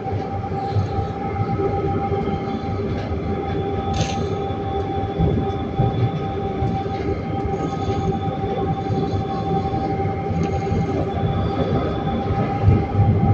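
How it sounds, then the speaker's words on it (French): Metro trains pass through Triolo station with a steady rumble of wheels on the rails and occasional high squeals, sustained and fairly loud for the whole stretch, with no voices. "Passage des rames à Triolo et plus tramway."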